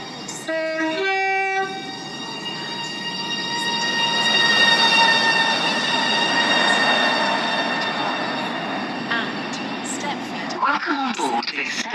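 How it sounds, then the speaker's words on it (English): A train in the SCR video game pulls into Stepford Central with a loud horn blast, then a long rising roar of wheels and squealing tones as it arrives. An announcer voice speaks over it. "The train now approaching platform 2 terminates here."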